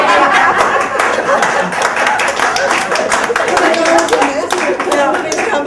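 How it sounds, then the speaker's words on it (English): An audience at a reunion event applauds award winners with steady, dense clapping. Some laughter and chatter run underneath, and the crowd is close and fairly loud throughout. "please felicitate and applaud the winners of this two very prestigious gifts"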